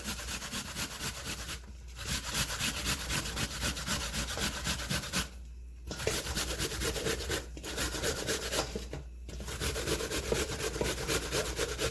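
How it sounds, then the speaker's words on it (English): Peeled apples are rubbed against a grater in steady back-and-forth rasping strokes, close and continuous, broken by a few short pauses between runs. "Now that the apples are peeled, we're just gonna grate them."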